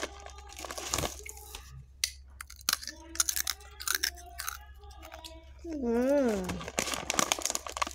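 A crunchy halal snack is bitten and chewed close up for a crunch test, giving a series of sharp, crackly crunches with pauses. A brief wavering vocal sound comes partway through.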